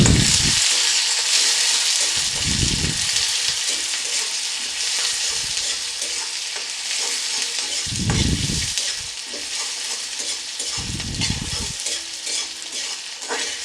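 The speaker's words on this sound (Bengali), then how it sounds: "এবার আমি এর মধ্যে দিয়ে দিচ্ছি পেঁয়াজ কুচি।" Chopped onions fry in oil in a pan for egg curry, a strong steady sizzle broken by several rhythmic spatula scrapes and stirs, loud and close with no voices.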